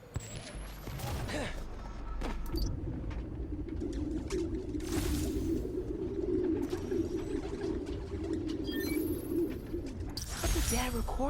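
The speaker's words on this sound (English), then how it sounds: "The place was swarming with pigeons." Pigeons coo in a city park in the Spider-Man Miles Morales video game, a soft continuous chorus of burbling calls mixed with scattered clicks and rustles, with no voices.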